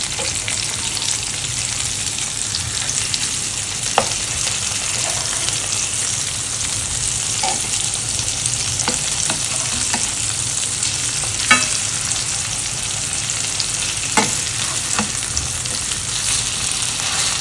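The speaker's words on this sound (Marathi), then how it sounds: "मी आता पॅन मध्ये सर्व मच्छी फ्राय करायला ठेवली आहे।" Green masala fish sizzles and fries steadily in a pan, a loud continuous crackle up close, with occasional sharp clicks and scrapes as the pieces are moved and flipped.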